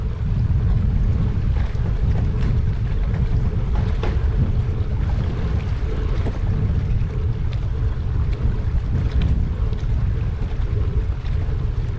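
Steady wind and rain buffet a boat moving along a river near a bridge, a constant dense roar with low rumbling and scattered pattering, no talking.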